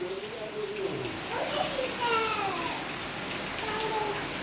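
Rain falls outside as a steady, broad hiss, with voices talking over it and a few faint chirping calls drifting through.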